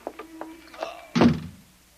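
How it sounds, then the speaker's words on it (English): Door in a tense radio drama scene opens with a solid thunk after a few faint rattling clicks, brief and close, followed by a short fading rumble. "The front door. Open."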